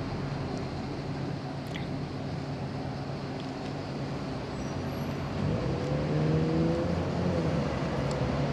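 A bus pulls into a Weston-super-Mare high street amid steady, fairly close traffic rumble, its engine note swelling slightly over the last few seconds.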